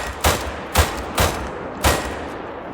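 Four rifle shots crack out in quick succession from a hunting rifle in theHunter: Call of the Wild during a tahr hunt. Each shot lands as a loud, sharp report with a short tail, spaced under a second apart.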